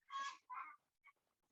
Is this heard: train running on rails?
no